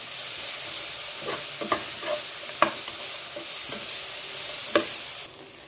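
Chicken biryani masala with tomatoes, coriander and mint sizzles steadily in a pan, with a few sharp spoon scrapes and stirring knocks over the continuous frying hiss.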